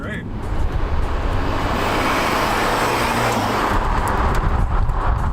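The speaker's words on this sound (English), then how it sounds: "And you can hear that turbo now." Rebuilt BMW sports car under way with its turbo spooling, a loud steady roar of engine and road noise filling the cabin, with voices present.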